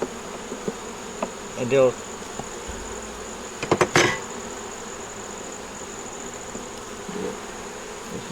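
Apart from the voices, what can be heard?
bees buzzing around a beehive nuc box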